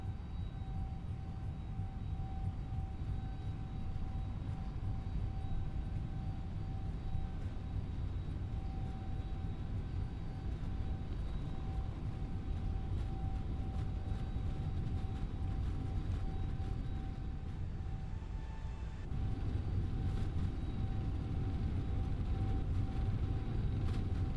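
An Airbus A321neo on its takeoff roll in a flight simulator, a steady droning engine roar with a faint whine that holds for over twenty seconds and grows slightly louder near the end.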